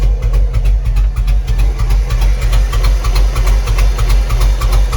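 A loud, close 2004 Chevy 6.0 truck engine idles roughly as if on one cylinder, with a lumpy, pulsing knock repeating several times a second, uneven and shaky throughout.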